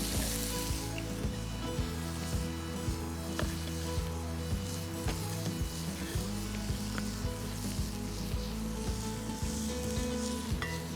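Sirloin steak rolls sizzle steadily in a hot pan, a dense, even crackle and hiss that carries on without pause, fairly quiet and close, with no voices.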